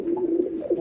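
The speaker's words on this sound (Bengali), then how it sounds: "তার মধ্যে এরকম গিরিবাজ পায়রা" Imported Giribaj pigeons cooing, a short run of soft low rolling coos close by, with no talk over them.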